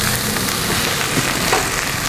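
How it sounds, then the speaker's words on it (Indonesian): Salted egg yolk and garlic sautéing in a pan, a close, dense, continuous sizzle and crackle of frying. "Kita tumis sampai kuning telurnya matang sempurna"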